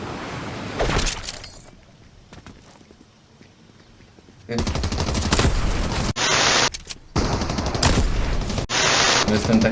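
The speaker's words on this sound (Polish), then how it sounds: "Lecę sobie, słuchać, kiedy tam się ktoś strzela" Rapid gunfire from a Fortnite match, bursts of shots close by and loud, broken up by a quieter stretch, then dense volleys returning with sharp clipped edges.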